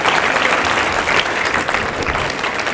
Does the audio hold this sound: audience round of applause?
yes